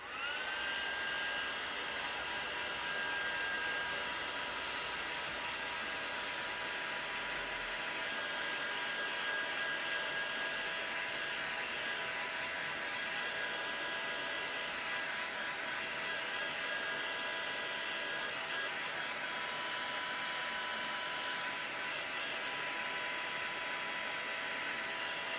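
A heat tool dries ink layers on a card with a steady, continuous hiss-like blowing drone that runs without a break throughout, close and even in level.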